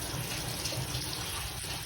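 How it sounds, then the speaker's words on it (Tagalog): Water poured into a non-stick pan of melted butter, a steady, close rushing splash that runs unbroken for the full stretch with no voices over it. "Lagyan natin siya ng tubig."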